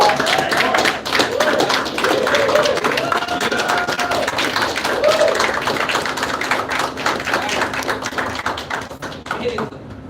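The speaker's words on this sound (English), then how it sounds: "big a huge round of applause for the president of iGenius." A large audience claps for the president of iGenius at a live event, a dense, steady round of applause filling the room under a raised crowd murmur and occasional voices.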